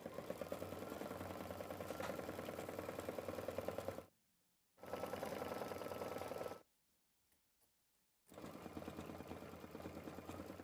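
An embroidery sewing machine stitches a label placement line, a rapid even needle chatter with a mechanical hum, loud and close, stopping twice briefly before resuming.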